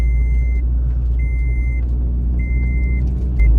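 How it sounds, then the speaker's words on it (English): A Scion tC with a freshly replaced transmission shift solenoid rumbles as it moves, a loud low engine drone under a repeating high electronic beep at regular intervals. "Gears are shifting."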